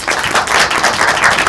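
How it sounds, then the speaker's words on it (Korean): A packed audience claps continuously at a Korean political documentary's release showcase, bright dense applause that stays loud and even throughout. "감독님 박수 한번 부탁드립니다."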